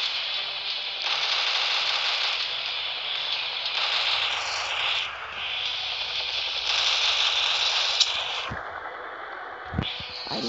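Gunship machine gun in the video game World of Gunships, firing in long sustained bursts with a harsh, buzzing rattle, loud and close, stopping briefly between volleys and followed by a couple of sharp impacts.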